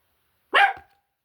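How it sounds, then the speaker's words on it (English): One sharp dog bark rings out loud and close, surrounded by silence. "We're gonna have to deal with the sound of them barking"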